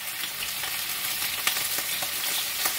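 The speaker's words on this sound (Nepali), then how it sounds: "अब चाहिँ म यहाँ यो बङ्गुरको टाउको पकाउन थालेँ है" Pig head meat frying in a pan without onions gives a steady broadband sizzle with scattered crackles and pops throughout, close and fairly loud, with no talking.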